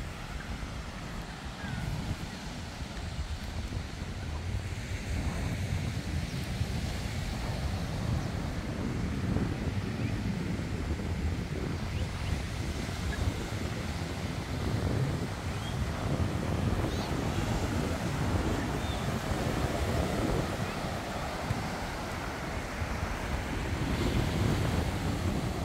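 Steady surf rolls in at Praia Central beach in Guaratuba, mixed with gusting wind buffeting the microphone, a continuous broad roar with no pauses throughout.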